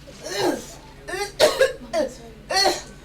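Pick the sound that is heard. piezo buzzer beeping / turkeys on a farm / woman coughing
woman coughing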